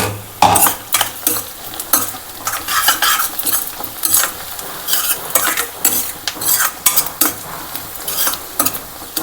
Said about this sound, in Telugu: ఇప్పుడు ఒకసారి కలుపుకుందామండి